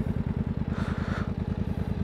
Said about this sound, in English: I get nice deeper exhaust notes, like more mellow but deep